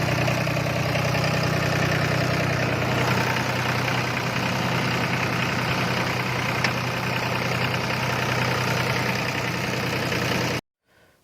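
A power tiller engine running after a service chugs steadily and loudly at close range with an even, continuous idle, then cuts to silence at the very end.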